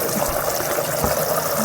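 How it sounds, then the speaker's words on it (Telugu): A glass of water pours into a pan of spicy boti (mutton tripe) curry, giving a continuous close splashing, trickling rush throughout. "వాటర్ వేస్తున్నాను, గ్లాస్ వాటర్ వేస్తున్నాను"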